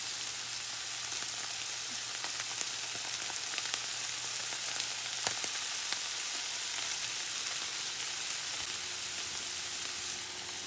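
Poblano peppers sizzle in a pan of browned meat for tamale pie, a steady dense frying hiss with crackles that runs unbroken and close throughout.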